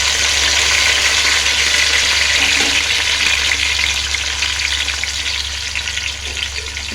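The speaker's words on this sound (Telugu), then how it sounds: "ఈ విధంగా ఆయిల్ వేడి అయ్యాక మనం ముందుగా కట్ చేసి పెట్టుకున్న ఉల్లిపాయ ముక్కలు వేసుకుందాము." Chopped onion pieces frying in hot oil, a loud, close, continuous sizzle that gradually softens over several seconds, with no talk.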